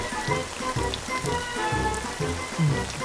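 Rain pours down in a film scene with someone under an umbrella, a dense, steady patter close by, overlaid with a low rhythmic thumping pulse.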